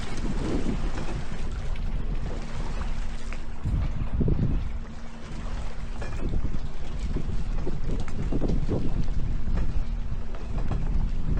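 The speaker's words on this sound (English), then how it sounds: "And the boat is like a pontoon boat. It's a pontoon boat." Loud, continuous pontoon boat motor hum on a lake in Voyageurs National Park, with strong wind noise blowing across the microphone and water rushing past, steady throughout with brief dips.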